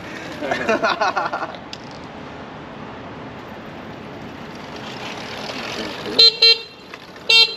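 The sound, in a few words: horn of a Throne SRPNT electric scooter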